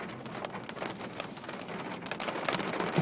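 Steady rain falling outdoors, a dense continuous patter of drops on surfaces, fairly close and even throughout with no speech.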